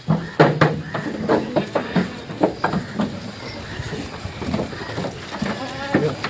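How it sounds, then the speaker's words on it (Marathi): Kathiawari goats bleat repeatedly at close range during a sale and loading of the herd, with short cries coming every second or so. People talk and call out between the bleats. "ही बाई एक नवी शेळी चालली आकाश दादा"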